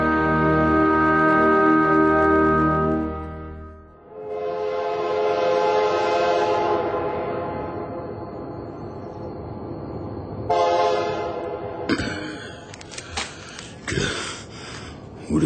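A steam train whistle sounds at a rural station, a long sustained tone followed by rumbling and clattering rail noise as the train moves, loud and near.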